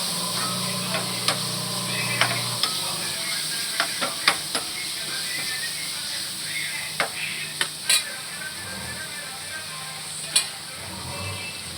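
Broccoli masala curry with turmeric being stirred in a pan, with a steady soft sizzle and scattered light scrapes and clicks of the spoon against the pan throughout.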